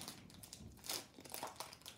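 A Magic: The Gathering card pack wrapper being torn open by hand without scissors, with close crinkling and crumpling of the foil plastic.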